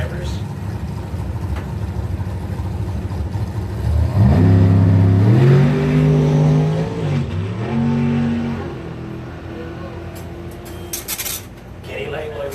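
A 1963 Corvette drag racing out of Milan, Michigan, accelerates hard down the strip. Its engine roars up through rising gear pulls before fading into the distance, heard under continuous announcer commentary and crowd noise.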